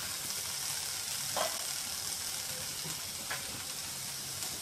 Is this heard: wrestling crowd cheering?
no